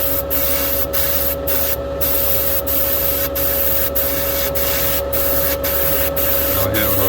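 Continuous, close hiss of an aerosol spray can laying a wet coat of paint onto a model van, steady throughout with brief pauses in the spray.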